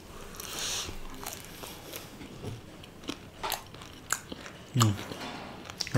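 Someone eats crunchy grilled meat from an Old Delhi kebab spread, with close, irregular crunching and chewing bites in several bursts and no talk over them.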